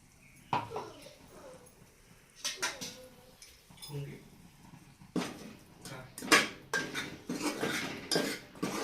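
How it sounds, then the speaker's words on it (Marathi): Ground masala paste for a mixed vegetable dish being scraped into a pressure cooker, heard as a series of close metallic clanks and spoon scrapes against the pot, irregular and sharp. "आता आपण हे वाटण कुकरमध्ये टाकून घेऊया"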